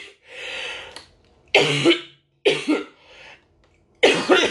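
Woman coughing while her abdominal muscles ache after surgery, a drawn-out rasping breath followed by three separate harsh coughs, close and fairly loud with pauses between them and no talk.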